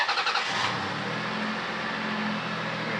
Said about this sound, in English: I'm going to fire up the engine